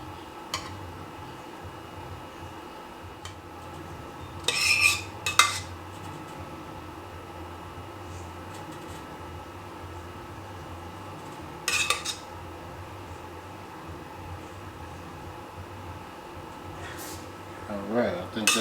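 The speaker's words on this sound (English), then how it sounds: "take up some of this sauce and spoon some of this sauce on here" A spoon clinks against a pan a few times in short scattered bursts while sauce is ladled onto stuffed pasta shells, with quiet kitchen background and speech heard at times.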